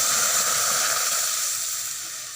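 Water poured into a hot pot of fried lentil dumplings (kalai dal bori) bursts into a loud, close hiss and sizzle of steam that slowly tapers off.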